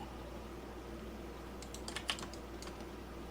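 A few quick computer keyboard key presses clatter faintly over a steady hum from a desk setup during 3D modeling in Blender, a short cluster of taps in the middle of an otherwise quiet stretch.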